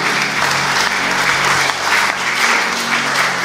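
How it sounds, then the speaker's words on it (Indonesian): Church congregation claps together in steady, dense applause, a loud continuous patter of many hands filling the room without speech. "Bagi kemuliaan Tuhan, tepuk tangan semuanya."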